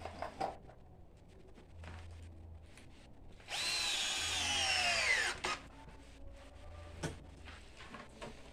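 A power drill whines steadily for a couple of seconds, driving screws into a living-room chair made from a tire, between quieter handling knocks and clatter.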